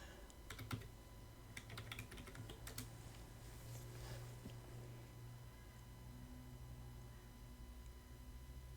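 Steady clicking of keys on a computer keyboard, typed in short bursts over a faint constant hum, with no voices.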